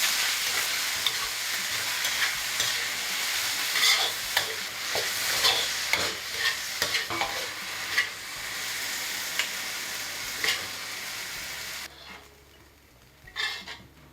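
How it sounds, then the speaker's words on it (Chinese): Garlic, chili and Sichuan pepper sizzling in hot oil in a home kitchen, a bright continuous crackle with stirring clatter that drops off sharply near the end, leaving a quiet tail with a last spatter. "先放蒜儿和那个辣椒、花椒，给它爆香"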